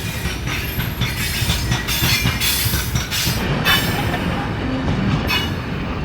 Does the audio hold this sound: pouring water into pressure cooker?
no